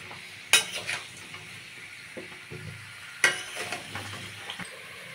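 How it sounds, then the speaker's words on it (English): Cauliflower frying in a pan for a Bengali fish curry, with a soft sizzle under occasional sharp clinks and scrapes of a utensil stirring against the pan. "So I've added the cauliflower and I'll let it get fried a little bit."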